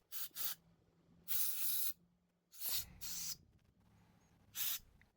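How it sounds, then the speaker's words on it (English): Carburetor cleaner hisses from a can in several short bursts of varying length into the channels of a small engine carburetor, separated by quiet pauses, close up. "Spray out all the channels with a compressor if you have it."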